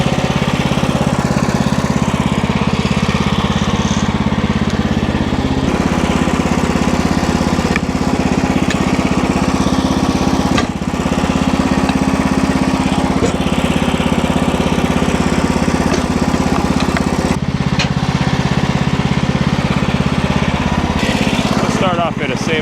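The engine of a Woodmizer LX50 Super sawmill runs loud and close while it cuts boards from a log. It keeps a continuous drone with slight shifts in load, and a voice talks over it.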